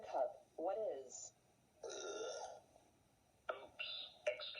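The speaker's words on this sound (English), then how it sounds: "how dare you burp loudly in my classroom?" A loud, drawn-out burp sounds in a classroom scene, mixed in with other throaty, voiced bursts and animated speech that comes and goes around it.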